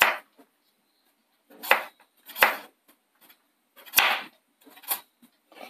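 Knife slicing through tapioca root for crispy chips: a few sharp crisp cuts spaced irregularly, each a short crunchy chop, close and fairly quiet with no talking.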